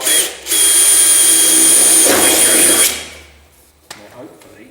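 Power drill whining loudly as it bores a hole through a Rover SD1 car door, one sustained high burst of about two and a half seconds that then winds down, followed by faint handling clicks.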